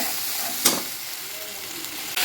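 Spice paste with turmeric and salt fries in a pan for a dried chandana fish and potato curry, giving a steady close sizzle with a sharp burst of spitting hiss early on and another near the end.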